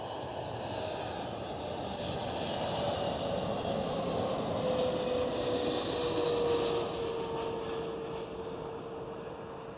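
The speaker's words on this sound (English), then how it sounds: "Right here we do have a 777 China cargo." An Air China Cargo Boeing 777 at Amsterdam Schiphol produces a steady, distant engine roar that swells gently and then eases, with a faint whine drifting through the broad rushing noise.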